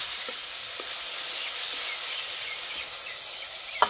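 Ginger and mustard paste frying in a pan, a continuous fine sizzle close up with a few faint stirring taps and a small clink at the end.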